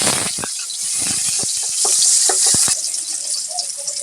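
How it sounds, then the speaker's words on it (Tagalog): Garlic dropped into hot oil for a Bicol express dish gives a bright, steady sizzle close by, punctuated by short clicks and scrapes of stirring, with no voices. "Dahil mainit ang ating mantika, maglalagay na tayo ng ating bawang."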